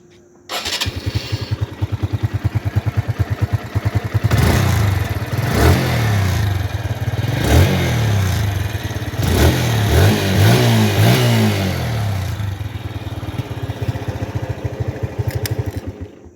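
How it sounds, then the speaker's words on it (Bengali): A 2021 TVS Metro Plus motorcycle with about 12,839 km on it starts up, settles into a rapid putter at idle, then is revved several times in sharp bursts before dropping back to a steady idle. It is loud and close, with no talk. "এখন আপনাদেরকে আমি ইঞ্জিনের সাউন্ড শোনাবো।"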